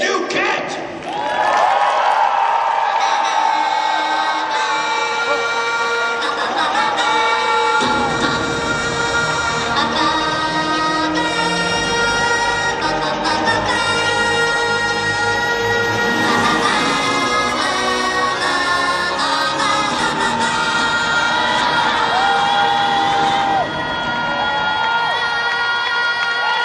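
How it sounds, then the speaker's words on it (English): Crowd at the PNE show cheering and applauding for a rider on a Shire war horse, sustained crowd noise under loud music and an announcer's voice. "how about a nice round of applause for Sir T.J. Duquette."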